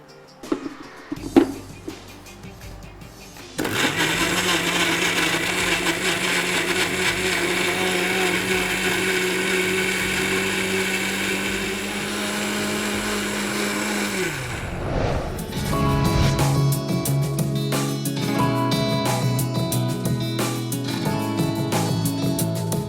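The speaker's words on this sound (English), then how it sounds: "Let's blend that all in." A countertop blender whirs loudly and steadily for about eleven seconds while blending homemade pizza sauce with oregano, then winds down and stops, followed by softer kitchen clatter.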